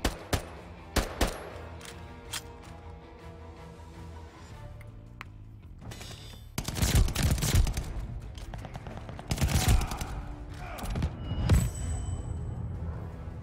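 Bursts of gunfire from Call of Duty: Vanguard, with sharp isolated shots early on and then dense, loud volleys of rapid fire, with echoing blasts building toward the end.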